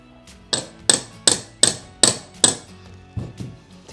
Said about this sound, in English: Can you hold the bike so I can tap this in?